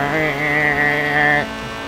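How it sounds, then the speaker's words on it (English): Car engine in the racing video game Forza Horizon, a steady buzzing harmonic drone held at a fixed pitch that cuts off abruptly near the end, fairly quiet and heard without talk. "Oh, hear that engine purr?"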